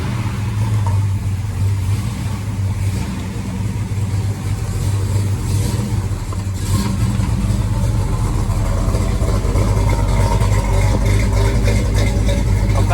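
A big block Chevelle engine idles steadily and loudly up close, a deep continuous rumble with a brief swell midway and no talk over it.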